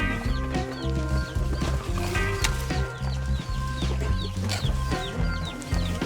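Chickens cluck and a rooster calls amid a busy farmyard, with steady music-like tonal layers and clip-clopping hooves running continuously underneath.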